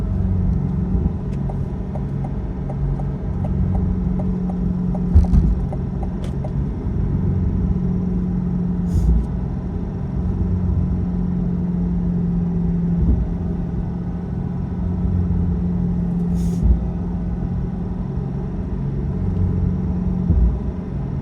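A 2020 Corvette Z51 3LT rumbles steadily from inside while cruising on the road, its engine a low, continuous drone with slight swells and no talking over it.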